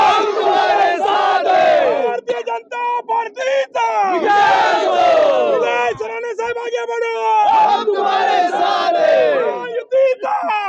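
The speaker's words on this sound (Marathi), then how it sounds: "जल्लोष करताना कार्यकर्ते" Party workers celebrating an election victory, a crowd of many voices whooping and shouting in loud overlapping bursts, near and energetic, with brief pauses between waves of cheering.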